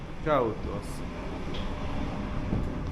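Interior of a Finnish commuter train riding, with a steady broadband rumble and hiss of the carriage in motion, continuous and fairly loud throughout.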